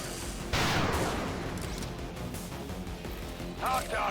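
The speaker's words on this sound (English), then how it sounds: "Okay, now I can shoot it." A gunshot fires in the turn-based strategy game XCOM 2 during an Advent HQ assault, one loud blast with a long, rumbling decay over steady battle ambience, and a brief rise in noise near the end.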